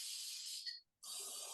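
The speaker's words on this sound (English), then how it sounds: "So if I spray this right in here," A spray can hisses onto a textured pastel painting in two close bursts separated by a brief silence, the first longer and tapering off, the second starting abruptly and holding steady.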